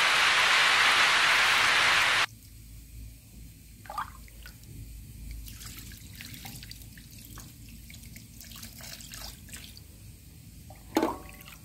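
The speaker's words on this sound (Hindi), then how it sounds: "अब ये गंगा जल और ये गर्म पानी है, ये देखो, गर्म पानी से नहलाऊंगी" Warm water and Ganga water poured over a small deity idol during a home bathing ritual: a loud rushing pour for the first two seconds, then quieter drips and light splashes, with no talk.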